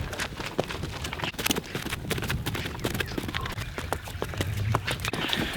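Steady clip-clop of a small horse's hooves on a hard path heading down a hill on an active volcano, continuous and fairly close, with outdoor background noise.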